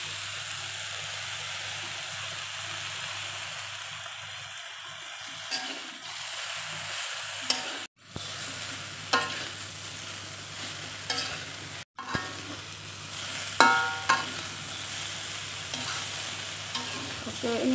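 Tempe stir-fried in a pan with eggplant and egg for a tumis terong, a steady close sizzle and frying hiss with scraping stirs and spatula knocks throughout, no talking.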